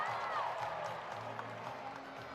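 Arena crowd at a college gymnastics meet between Missouri and Georgia, a moderate, fairly distant wash of cheering and clapping, with a commentator talking over it.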